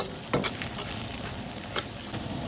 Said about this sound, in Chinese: 現在可以加入這些辣椒一起炒， 花椒要多，辣椒要多